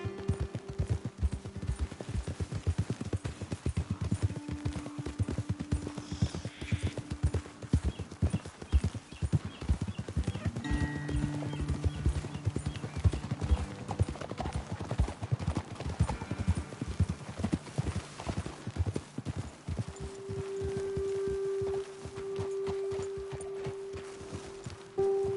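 Horses clip-clop steadily along a path in a Lord of the Rings video game, hooves beating in a continuous uneven rhythm with occasional tonal game sounds, no talking.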